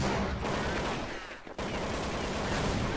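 Rapid gunfire sprays in Counter-Strike, a dense, continuous burst of shots with a brief dip midway before the firing resumes.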